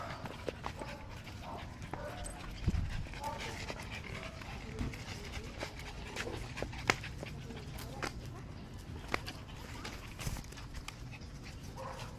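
A dog pants and shuffles nearby amid faint scuffling and background noise, with no barking; soft rustles and taps scattered throughout.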